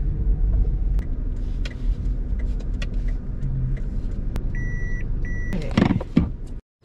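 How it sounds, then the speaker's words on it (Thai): A car's engine rumbles steadily while the driver makes a U-turn to park on a street near a Buddhist temple in Samut Prakan, Thailand, with interior clicks and a couple of electronic beeps near the end. "เดี๋ยวผมเจอแล้วผมเจอแล้วขออนุญาตกลับรถแป๊บหนึ่งฮะ"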